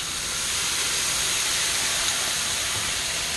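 Worcestershire sauce hitting hot onions in a pan gives a loud, steady steamy hiss that fills the whole stretch without a break.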